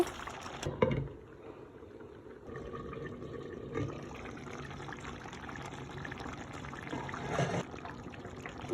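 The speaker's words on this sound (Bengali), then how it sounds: "জল দিলাম" Water is poured into a simmering spinach and chicken curry in a pot, a soft close trickle and splash that runs on with brief louder pours, no talking over it.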